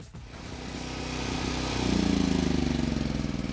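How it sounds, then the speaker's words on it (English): A portable generator runs steadily nearby at a house without power, its engine drone building slightly in loudness and then holding a rhythmic mid-pitched hum with no talk. "our portable generator really saved the day for us today since this house has no power"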